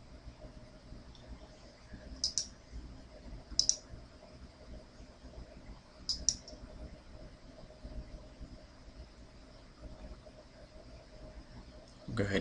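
Mouse clicks during a Windows Server 2008 installation in a VMware virtual machine: a few sharp, quiet clicks in pairs spaced over several seconds against a low steady room hum.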